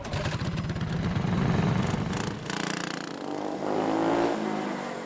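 Go-kart engines start up nearby and rev, a buzzy rising-and-falling drone that swells and dips, with a brief clatter in the middle and no voices.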